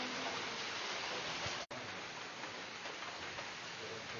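Steady heavy rain pours outside a home during a live broadcast about domestic work, a dense continuous hiss with one brief dropout partway through and no talk over it.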